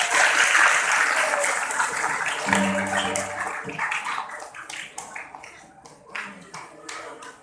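Students at an Islamic boarding school clap together, a burst of applause that is loudest at first and gradually thins into scattered claps, with a brief low hum and murmuring in the background.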